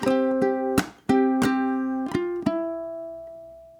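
A ukulele plays the first bar of a song's verse as a handful of bright plucked notes and strummed chords in rhythm. The final note rings out and fades, and nobody talks.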